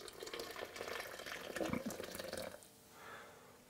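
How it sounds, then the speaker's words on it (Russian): Water is poured into mashed red viburnum berries, a soft splashing trickle at close range for a couple of seconds before fading to quiet, with no talk. "Поэтому мы сюда добавим немножко воды."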